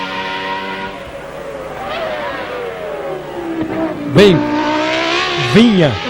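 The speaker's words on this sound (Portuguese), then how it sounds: "Tá indo embora o motor do Panis." Ligier Formula 1 car at the 1995 Australian Grand Prix, engine failing near the end of the race, a steady high-pitched racing engine whine with rising and falling sweeps, heard under commentator speech throughout.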